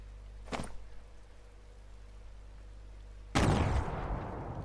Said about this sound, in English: I'm just gonna throw some grenades first.